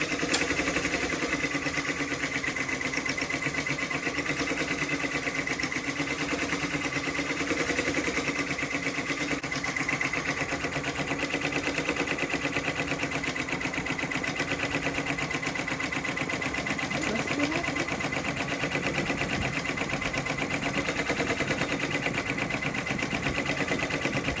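An embroidery machine stitches a team logo onto a knit beanie held in a 5.5 Mighty Hoop frame. It gives a steady, rapid mechanical chatter at moderate volume that runs unbroken with no talking.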